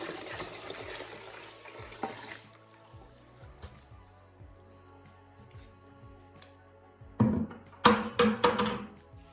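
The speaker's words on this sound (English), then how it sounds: "So we're gonna put a little bit more water in this," Water pours from a tap into a container of freshly picked blueberries, a quiet trickle with dripping, then louder splashing bursts near the end.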